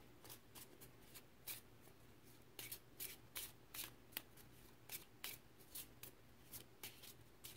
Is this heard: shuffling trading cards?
yes